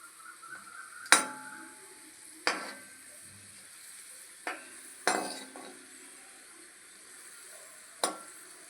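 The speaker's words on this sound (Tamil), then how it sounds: "முந்திரி திராட்சை வறுத்துட்ருக்கேன்" Cashews and raisins fry in oil for rava kesari, a soft continuous sizzle broken by several sharp spoon clinks against the pan at irregular intervals.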